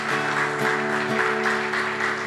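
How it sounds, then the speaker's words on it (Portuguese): Congregation clapping in a church, a steady wash of applause with some rhythmic claps, while sustained musical tones hold underneath throughout. "Aplauda o Senhor Jesus."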